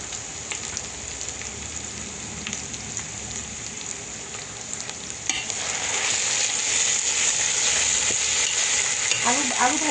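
Chopped onion and green chillies fry in a pan, giving a steady sizzle with stirring scrapes that grow louder and denser about halfway through, ending in a few faint tonal sounds.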